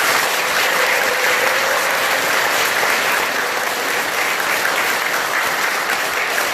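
A temple congregation at a Buddhist dharma gathering in a temple lobby claps steadily as one dense, even wash of applause, loud and sustained for several seconds with no voices over it.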